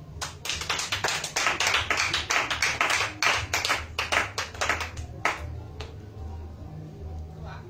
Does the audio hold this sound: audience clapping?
yes